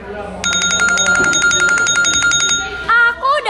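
A school bell rings loudly in a fast, steady electric trill for about two seconds, then stops, with voices talking over the end.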